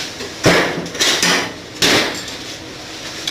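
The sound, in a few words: small metal hammer pounding wooden wedges into place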